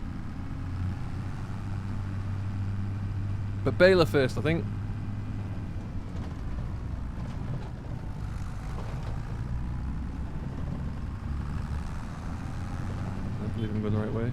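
A tractor engine in Farming Simulator 25 drones low and steady throughout, a continuous mid-pitched rumble with a brief louder clatter early on, while someone talks over it.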